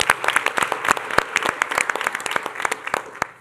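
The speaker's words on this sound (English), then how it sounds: "we'll clap for that." Audience at a school board meeting clapping for students who set school records, a modest group of distinct, close handclaps in a quick uneven patter that slowly thins out.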